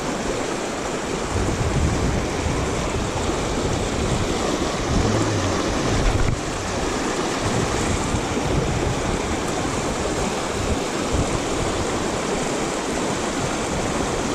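Fast river water rushes past a fishing spot in a steady, loud, close roar that never lets up and carries no voices.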